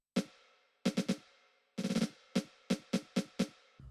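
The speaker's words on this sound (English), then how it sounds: "And then we also have the snare." Sharp, bright snare drum hits with a low body and crisp rattle, played in bursts: one hit, a quick triplet, a fast roll, then steady repeated strikes.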